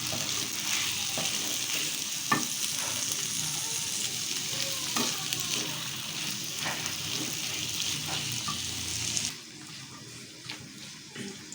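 Chana daal frying in a pan, stirred with a spoon: steady sizzle with occasional scraping clicks, then the sizzle drops quieter near the end; no talking.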